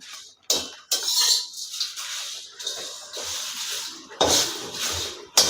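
Whole spices dry roasted in a hot kadai, stirred with a metal spoon: repeated scraping, rattling sweeps in bursts separated by brief pauses, close and fairly loud.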